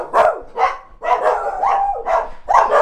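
Dogs bark in quick, uneven bursts close by at a house being viewed in Mexico, with overlapping yips and barks filling the moment and no one speaking.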